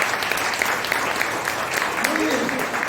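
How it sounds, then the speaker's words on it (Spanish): Church congregation clapping together in a dense, sustained round of applause that fills the room for a few seconds, with a voice speaking over it. "Tiene un aplauso al Señor"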